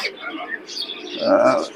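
A female Tiger Double pigeon coos softly at a busy pigeon market in Khulna, its low throaty call rising near the end beneath nearby chatter.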